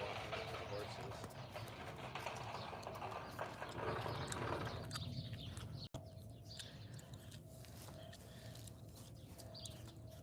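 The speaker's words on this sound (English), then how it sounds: "you're still walking with the horses" Horses walking along a path with their handlers, hooves clip-clopping in a steady rhythm under continuous people talking and some birdsong, with outdoor background noise throughout.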